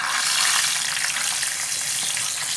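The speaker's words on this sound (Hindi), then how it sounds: "देखिए बहुत ध्यान से इनको फ्राई करना होगा, जब ये एकदम काले रंग की हो जाए तब इनको निकाल लेना है।" Stuffed green chillies filled with tangy khatai sputtering in hot oil, a loud, dense, unbroken sizzle heard close up with no voices.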